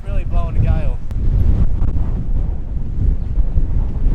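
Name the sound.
strong wind blowing a gale in the bush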